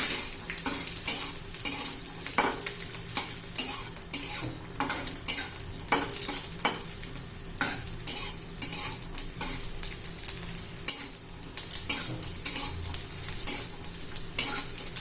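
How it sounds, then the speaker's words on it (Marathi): Masala of coconut and garlic roasting in a pan with a drizzle of oil, sizzling steadily while a spoon scrapes and stirs in a regular rhythm of soft metallic strokes, close and alone without talk. "आता मी थोडंसं तेलाची धार फिरवायची आहे. ते पण छान असे भाजून घ्यायचे बघा."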